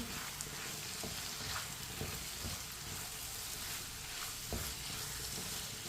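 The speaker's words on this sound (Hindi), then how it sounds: "करेले डाल के मैंने अच्छी तरह मिक्स कर लिया है।" Continuous sizzling and crackling of bitter gourd and lentils in a hot pan, punctuated by occasional soft scrapes as the contents are stirred.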